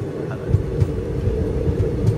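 A delayed passenger train, a Sankranthi special from Tirupathi to Kacheguda, rumbles into Cherlapalli railway station with a steady low rolling noise and soft periodic wheel thumps, close and continuous.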